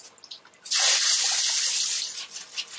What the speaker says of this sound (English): So I'm going to go ahead and rinse.